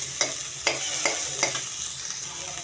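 Chicken pieces being stirred in a hot frying pan, sharp scraping strokes repeating about every half second over a steady close sizzle, with no talking.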